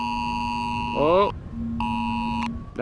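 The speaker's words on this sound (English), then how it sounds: "that is an NL alert on my mobile phone" NL-Alert emergency alert tone sounding on a mobile phone outdoors near Amsterdam Schiphol Airport, a loud, piercing electronic tone that warbles briefly, cuts out, then repeats in a second steady burst.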